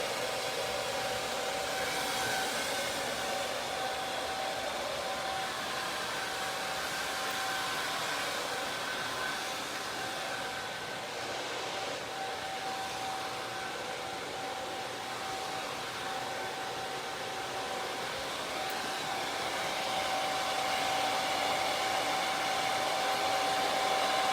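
A hair dryer blows steadily while drying hair during a long layered haircut, a loud continuous whooshing roar with a faint whine that hardly varies and has no talk over it.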